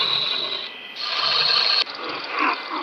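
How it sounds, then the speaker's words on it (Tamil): Mechanical gear and ratchet sounds accompany a robot arriving in an SCP game scene, a loud grinding, clicking whir that shifts pitch abruptly several times. "வந்துட்டாலே ரோபோ."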